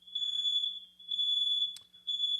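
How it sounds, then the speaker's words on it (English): A smoke alarm shrieks in loud, piercing high-pitched beeps, three long pulses with short gaps between, alone in a quiet room. "So my smoke alarm is going off"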